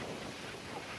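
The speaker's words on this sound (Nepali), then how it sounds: "हावाको बेग अति नै चलिरहेछ" Strong wind gusts outdoors on a walk up Namsan toward Seoul Tower, a steady loud rush buffeting the microphone throughout with no talking.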